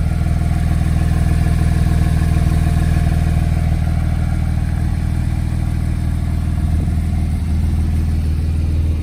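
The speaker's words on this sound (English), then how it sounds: "So a really nice exhaust note." A 2018 Porsche 911 Turbo with an upgraded exhaust rumbles loud and close with a deep, steady exhaust note, holding a constant drone rather than sharp revs.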